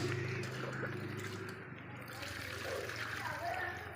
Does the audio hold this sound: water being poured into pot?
yes